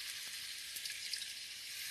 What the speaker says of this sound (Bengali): এই যে একটু জল দিয়ে দিলাম।